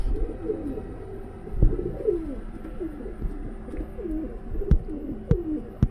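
Pigeons coo in a repeated, rhythmic murmur of soft throaty calls, close by, with a few knocks and light thumps from the coop.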